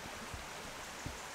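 A small river near Rydal Water in the Lake District flows in a quiet, steady rush with faint low burbles and no voices.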